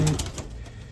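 Racing pigeons coo in a loft, a few soft low throaty calls close by under a quiet background.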